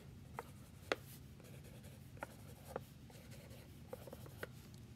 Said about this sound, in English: I'm gonna draw my clouds.